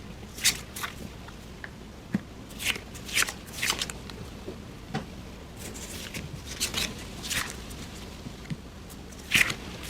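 Tarot cards are shuffled by hand in quick, uneven bursts of papery riffling and slapping, close up and fairly clear over a quiet background.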